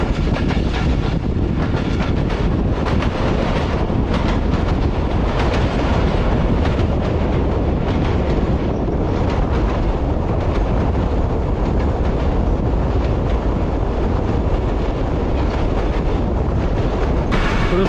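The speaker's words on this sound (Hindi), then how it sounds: "मलिर रिवर ब्रिज पर हमारी ट्रेन कुछ देर में पहुंचने वाली है।" Rehman Baba Express passenger train rolling at speed toward the Malir River bridge, heard from onboard: loud, constant rumble with rapid clickety-clack of wheels over rail joints, no talk.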